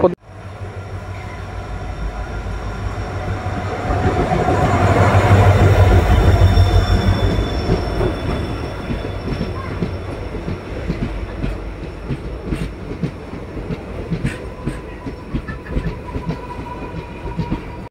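The Bhubaneswar–Rameswaram weekly express rolls along with a steady rumble and rhythmic wheel clatter, heard from inside a coach. The noise swells as it passes something, then settles back into a continuous clickety-clack.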